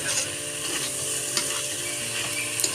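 Banana flower being stirred with spiced water in a pan, a steady sizzle under scraping stirring strokes, with a couple of sharper clinks along the way.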